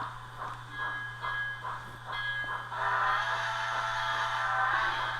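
Kato 2-8-2 Mikado model steam locomotive with ESU LokSound decoder running on a layout, pulling a circus train; rhythmic chuffing pulses with a steady mechanical hum, growing busier and louder toward the end.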